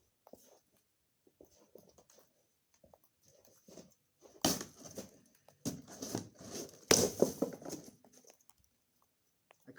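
Blade slicing through a cardboard box outdoors in snow, a few scattered scrapes and then three loud, sharp tearing cuts close by, with quiet pauses between them.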